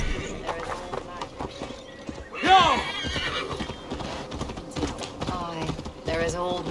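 Horse hooves clip-clop and a whinny rings out in Assassin's Creed Valhalla, ridden through untamed English forest in Glowecestrescire; a sharp neigh stands out near the middle over steady hoofbeats and a talking voice.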